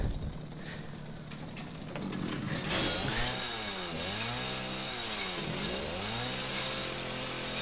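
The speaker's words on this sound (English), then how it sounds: "At least I get this chainsaw, right?" A chainsaw from Resident Evil 7 starts up after a brief quiet stretch, then runs with a loud, steady engine drone that keeps rising and falling in repeated revving swells.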